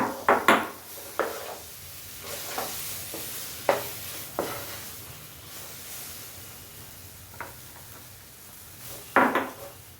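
Wheat flour and moong dal being stirred in a pan for Ashoka halwa, with a spoon scraping and knocking against the metal in scattered close clinks, louder at the start and end, with quieter rustling between.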